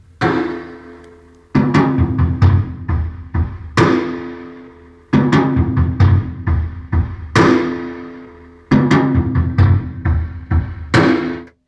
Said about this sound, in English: So I pitch the machine down, so the drums sound like this.